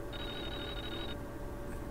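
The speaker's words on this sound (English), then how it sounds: "Phone!" A telephone rings in the video game Clock Tower as a steady electronic tone lasting about a second. It sounds thin and quiet over a low background hum, with no talk.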